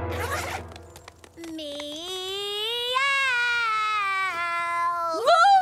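A drawn-out, wavering meow rises and falls for several seconds, then ends in a sharper upward cry; a brief rustle comes before it.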